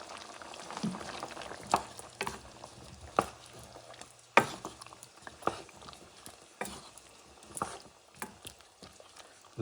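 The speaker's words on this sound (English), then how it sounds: "Carrots and the peppers. I'm going to mix it up." Carrots and peppers are mixed into a simmering pot of beef mechado, faint bubbling under scattered knocks and clacks of the spoon against the pot, no voices.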